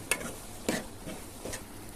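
A spoon stirs ridge gourd and egg curry in a pan, giving three soft scraping strokes at an even pace over a faint, quiet simmer.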